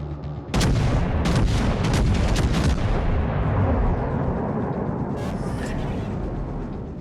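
Naval artillery guns firing in the World of Warships: Legends game, a loud sustained barrage of heavy booms and overlapping gunfire blasts, with several sharp salvos early on and a rumbling roar carrying through.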